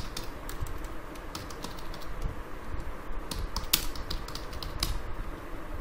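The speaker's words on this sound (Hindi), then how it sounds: "अब यहाँ पे मैं कुछ भी टाइप करूं" Rapid typing on a computer keyboard while writing in OpenOffice Writer, with a steady patter of clicking keystrokes throughout, close and moderately quiet, with no voices.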